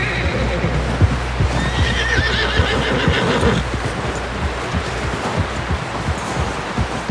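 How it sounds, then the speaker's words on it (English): A horse whinnies in Red Dead Redemption 2 over a dense, busy background of hooves, rustling and movement, with voices mixed into the noise. "Someone help John down off this horse"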